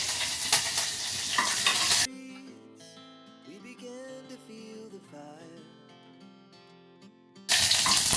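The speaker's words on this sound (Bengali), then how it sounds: "সর্ষে আর কারি পাতা ভেজে নিলাম" Mustard seeds and curry leaves fry in mustard oil, a loud crackling sizzle at the start and again at the end, with a stretch of quieter tonal sound between.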